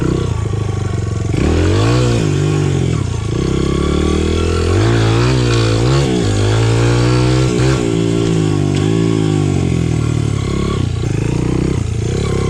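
A Honda CRF100F dirt bike, bored out to 120, revs hard and accelerates in first gear, its loud, close engine rising and falling in pitch through several throttle pulls.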